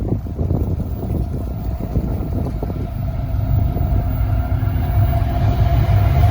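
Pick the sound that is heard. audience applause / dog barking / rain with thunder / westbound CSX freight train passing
westbound CSX freight train passing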